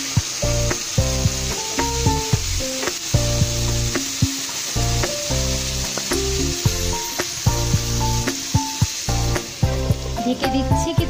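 Vegetables for chowmein sizzle steadily in a pan, a continuous close frying hiss with repeated knocks and scrapes of stirring throughout, no talking.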